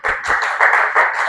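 A few people at a talk clap together in a short burst of uneven, rapid claps, close by.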